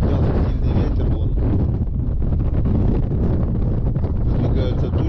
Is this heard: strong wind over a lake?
yes